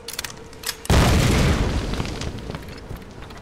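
A loud bomb blast in the Tomb Raider video game erupts suddenly after a quiet moment, a heavy deep boom that holds and rumbles slowly away over the next few seconds.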